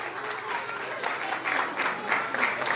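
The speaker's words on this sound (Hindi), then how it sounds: "जोरदार तालियां आपके बच्चों को" A crowd applauds steadily for children receiving gifts at a Resurrection Day prize distribution, with dense, continuous clapping at moderate loudness throughout.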